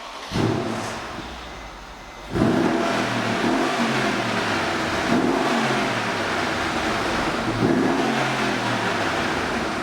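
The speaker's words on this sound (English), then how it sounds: "rev the car a little bit, let you hear what that exhaust sounds like" Exhaust of a warmed-up 2012 Mercedes-Benz CLS63 AMG revved repeatedly from inside the car: a sharp blip, then several rising, throaty surges over a steady rumble, loud and close with no talking.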